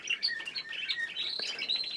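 Budgerigars chirp and warble in quick, busy bursts, several birds chattering close by with no voices, a male courting a female.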